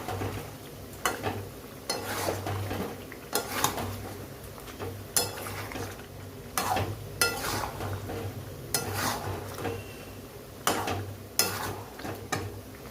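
Spice masala being stirred into cut chicken in a pan, heard as irregular scraping and clinking of a utensil against the pan over a low steady hum, with brief sharper knocks scattered throughout.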